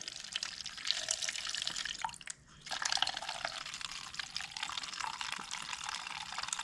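Liquid drips and trickles steadily out of a crusty 1993 Honda CR500 motorcycle that hasn't run in ten years, with a brief pause partway before the patter resumes, close and fairly faint.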